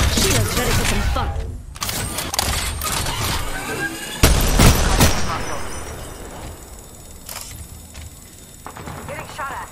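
Gunfire from a battle in Apex Legends, with several loud bursts of shots and impacts early on that thin out toward the end, mixed with busy game noise and voices.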